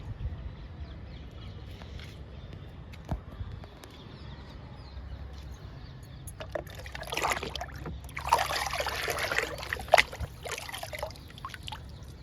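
Liquid fertilizer is poured onto vegetable plants such as a bean plant outdoors. A faint background gives way to a trickling, splashing pour in the second half, with a few small clicks nearby.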